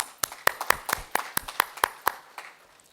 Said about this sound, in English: Let's give them a thunderous round of applause.